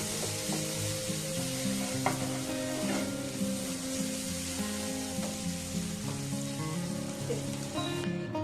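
Spices, tomato and onion frying together in a pan for chicken keema paratha, a continuous close sizzle and crackle with occasional stirring scrapes, steady and moderately loud, no talk.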